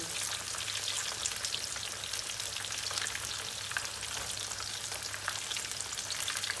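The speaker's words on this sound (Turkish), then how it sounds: "Tavuğumuz güzel kızarsın. Yağın altını kısmıyorum." Chicken frying in hot oil in a pan makes a dense, continuous crackling sizzle, close and even throughout, with no talking.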